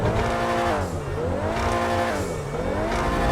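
Wagner supercar engine in a GTA V drag race, roaring loud and continuous with rising and falling revs as it shifts gears, tire noise underneath.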